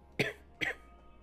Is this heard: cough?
yes